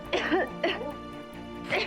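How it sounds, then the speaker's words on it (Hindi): A woman with a smoke allergy coughs in short, harsh bursts, three separate fits spaced across under two seconds, close and fairly loud, with a throaty, clearing edge. "इतना सा धुआं देखा नहीं कि खांसने लगती हो"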